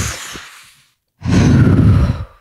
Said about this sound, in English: Should we take some deep breaths?